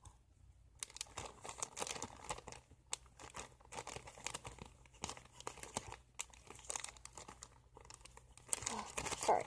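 A plastic Ziploc bag holding cotton is handled and zipped shut, giving close, repeated crinkling and crackling bursts of plastic, fairly faint, with brief pauses between them.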